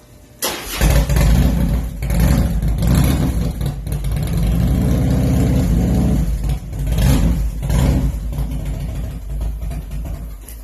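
A motorcycle engine fires up and revs repeatedly, loud and close, with throttle blips rising and falling between steadier stretches of running.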